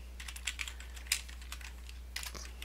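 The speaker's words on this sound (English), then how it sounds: "I'm going to type expenses" Close, crisp keystrokes on a computer keyboard while a chart title is typed into a spreadsheet, with light, irregular taps and a brief flurry near the end and no talking.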